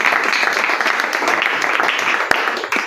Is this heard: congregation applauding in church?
yes